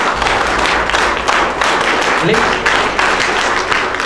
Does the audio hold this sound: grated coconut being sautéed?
no